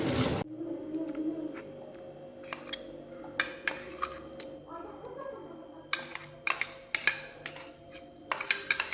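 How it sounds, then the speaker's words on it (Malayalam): Ginger and garlic rubbed on a grater in a home kitchen, a series of short, sharp scraping strokes, sparse at first and then coming in quicker clusters, close and fairly quiet with no talk. "അപ്പോൾ നമ്മൾ ഇഞ്ചിയും വെളുത്തുള്ളിയൊക്കെ ഒന്ന് ഗ്രേറ്റ് ചെയ്ത് വെക്കുകയാണ്."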